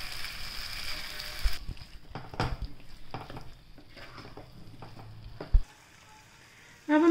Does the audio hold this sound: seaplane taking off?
no